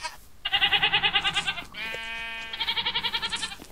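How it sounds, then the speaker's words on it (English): A herd of goats in a modded Minecraft game bleats in loud, wavering, vibrato-like calls, one after another, with a brief higher tone between them and no talking. "Oh, a whole load of goats."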